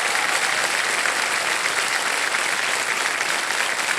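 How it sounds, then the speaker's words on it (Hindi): A studio audience on the Hindi quiz show KBC claps steadily, a dense, even wash of applause at full volume for the whole stretch with no talking over it. "ताली बजती रहे इनके लिए।"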